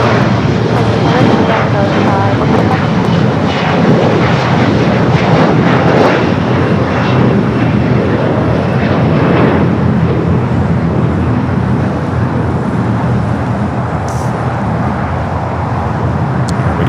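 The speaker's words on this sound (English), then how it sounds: "Japan Airlines Flight 60, the flight coming up from Osaka" A Japan Airlines heavy jet arrives at LAX on Flight 60 from Osaka, its loud, broad engine roar filling the whole stretch, with road traffic and people talking mixed in.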